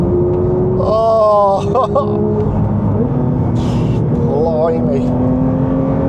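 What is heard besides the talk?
Porsche GT3 accelerating fast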